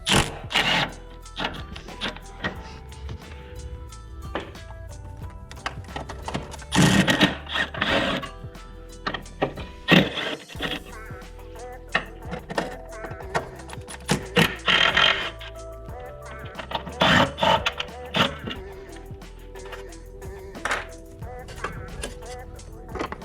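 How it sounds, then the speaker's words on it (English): A 10 mm wrench works loose the battery tray and bracket bolts on a 1987 Honda Prelude Si, giving sharp metallic clicks, ratcheting and clunks in irregular bursts close by, with a few quiet gaps. "So using a 10 mil, just take off the battery tray and all the brackets that's holding it."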